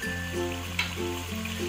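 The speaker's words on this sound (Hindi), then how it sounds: "अभी हम 1 से 2 मिनट इसको भून लेंगे।" Mutton for Delhi-style nihari sizzles steadily in a pot as it is roasted after pressure-cooking until tender, a continuous soft frying hiss under a low steady hum, with no talking.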